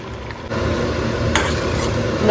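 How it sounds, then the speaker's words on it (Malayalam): Squid roast is stirred fast in a pan over a high flame, with continuous scraping and stirring that grows louder after a quiet start, plus a few metallic clinks against the pan. "ഇതിനെ വേഗം വരട്ടി എടുക്കണം, നിർത്താണ്ട് ഇളക്കിയിട്ട് എന്താ പറയുക, അടി പിടിക്കാണ്ട് അങ്ങനെ ഇളക്കിയെടുക്കുക"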